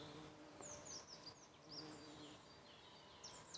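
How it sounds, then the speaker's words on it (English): A queen bumblebee buzzes faintly outdoors in search of a nest, a low continuous drone under bright bird chirps and a soft background hiss. "Hello, Mrs. Bumblebee. Queen Bee finding herself a nest for the year."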